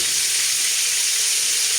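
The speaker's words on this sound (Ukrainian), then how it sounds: "Без кришечки так посмажу. От. А поки в нас оце воно буде смажитися" Food fries in an open pan without a lid, giving a dense, steady, loud sizzle and hiss that runs unbroken throughout with no voices.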